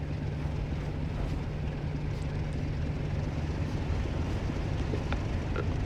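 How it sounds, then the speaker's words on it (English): BR Class 47 diesel locomotive in Train Sim World 2, running Manchester to Leeds on the Northern Trans-Pennine route, its engine droning steadily under power with a constant low hum and rumble, no voices. "you can really hear that diesel engine working as we add the power"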